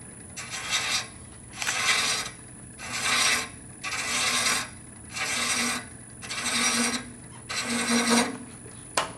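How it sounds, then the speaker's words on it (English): Scraper on a wood lathe cutting a turned wooden acorn box, seven evenly spaced rasping passes, each lasting about a second, close and fairly loud over a steady motor hum and a faint high whine; no talk. "Yeah, it's a scraper. You want to be a little below center."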